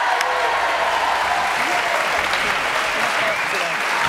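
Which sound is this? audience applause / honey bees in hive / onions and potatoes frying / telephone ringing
audience applause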